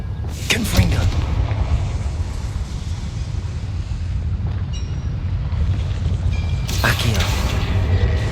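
In the video game Hogwarts Legacy, a Confringo fire spell is cast: booming blasts with sharp, crackling bursts near the start and again toward the end, over a continuous low rumbling roar.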